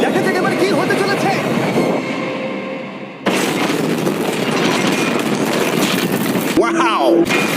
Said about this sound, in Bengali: ট্রেনটা আসছে। ধাক্কা মারার আগের মুহূর্তে ট্রেনটার গতিবেগ হতে চলেছে 35 মাইল পার আওয়ার।